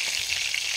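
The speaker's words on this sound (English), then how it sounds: "It spits all over the place, doesn't it, with olive oil?" Spring rolls frying in hot olive oil give a steady, close sizzle with constant fine crackle and spitting, heard on its own with no talk.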